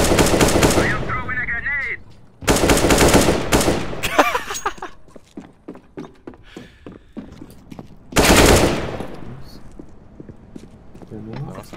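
Rapid bursts of gunfire in a shooter video game, fired in sharp repeated volleys with dense loud stretches and scattered single shots, mixed with a player talking over the action.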